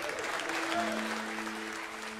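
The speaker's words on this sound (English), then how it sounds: "Applaudis, Taras." An audience at a French stand-up comedy show applauds steadily, a dense, moderately distant clapping that holds for the whole stretch with a faint tone underneath.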